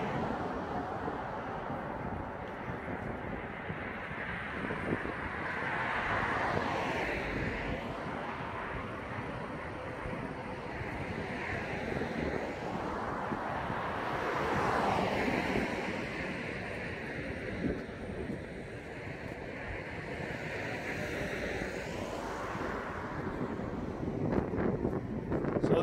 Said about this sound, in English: Very windy up there